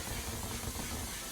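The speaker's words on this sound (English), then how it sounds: "Some One Size setting spray." One Size makeup setting spray hisses from its bottle in a single steady, close burst of mist that fills the whole moment without a break.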